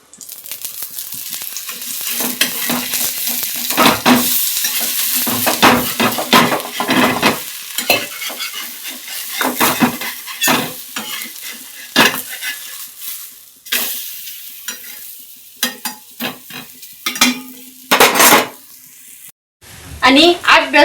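Thalipeeth, a Marathi flatbread, fries in a pan at home with steady sizzling and crackling, broken by stirring and clattering against the cookware; brief voices are heard now and then.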